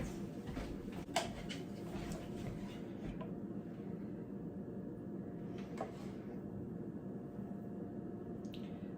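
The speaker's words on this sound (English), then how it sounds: "I'm washing my hands again. Always washing the hands." Hands washed under a running kitchen tap while making homemade pizza sauce: a steady, close rush of water that runs throughout, with no talking.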